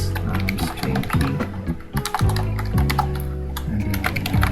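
Fingers type on a cheap, low-quality computer keyboard, a rapid, uneven run of clattering key taps close up, with brief pauses between bursts and no voices.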